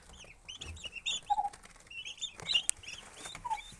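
Young turkey poults, kept warm while their feathers grow in, cluck and peep in a steady scatter of short chirps, near and alone with no talk.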